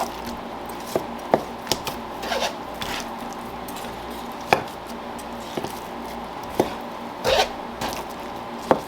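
A knife trims a wedge of fat from a cheap cut of meat, giving scattered sharp scraping and chopping strokes against a board, close up with a steady background hum.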